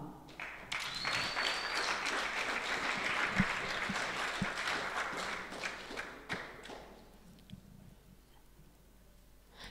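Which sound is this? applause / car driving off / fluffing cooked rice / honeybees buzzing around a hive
applause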